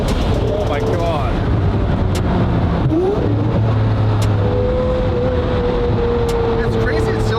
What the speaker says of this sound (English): it still sounds like a V12. I mean, it's still got the whine, the high pitch